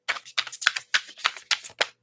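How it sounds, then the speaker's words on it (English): An oracle card deck, the Akashic Records Truth Oracle, is riffled and shuffled by hand in quick papery bursts, about eight rapid flicks in a loose rhythm, close and clear with no talking. "I stopped shuffling."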